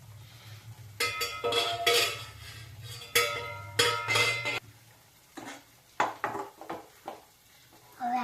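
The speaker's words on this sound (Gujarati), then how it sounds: "તો હવે આપણે લાપસીને હલાવી લઈએ" Lapsi, a sweet wheat porridge, stirred in a metal pot: a series of scraping, clanking spoon strokes against the pot in bursts, with short pauses between them, close and fairly loud over a low background hum.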